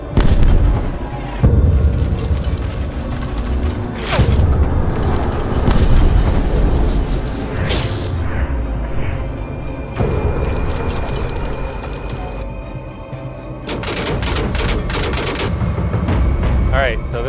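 Suppressed 9mm MP5 shots with an 8-inch suppressor crack out in a loud, uneven series of sharp reports, close by, with people talking between the shots.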